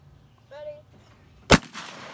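A single loud shotgun blast cracks sharply and close by, with a brief rumbling tail, after a short whistle-like tone and faint voices.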